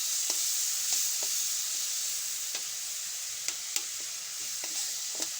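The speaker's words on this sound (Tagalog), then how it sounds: "Lagyan natin ng butter ang igisa natin guys." Butter sautéing in a pan crackles with a bright, even hiss, punctuated by sparse sharp pops and faint stirring scrapes; close and uninterrupted by talk.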